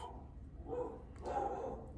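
Two muffled dog barks, about half a second apart, come from some distance over a low background hum; the dog is a female.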